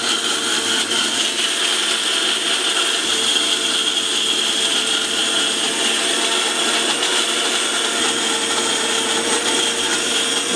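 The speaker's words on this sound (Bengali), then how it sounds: "Sujata still ব্রুশের Blender." A Sujata blender with a stainless steel body runs steadily at high speed, a constant whirring motor drone with mechanical rattle that holds at even loudness throughout, with no talking.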